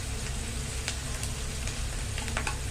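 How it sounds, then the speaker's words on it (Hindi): Onions fry in a pan for a wild mushroom recipe, a brief, steady close sizzle with a few light stirring ticks and no voices. "प्याज टा भाजी हेबा लगे"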